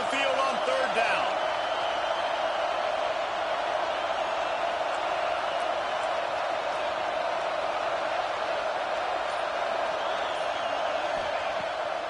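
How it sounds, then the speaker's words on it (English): Home crowd in a college football video game, Notre Dame against UConn, building noise on a third down, a loud sustained roar with a steady tonal drone running under it, constant from start to finish. "Here comes this home crowd as the defense tries to get off the field on 3rd down"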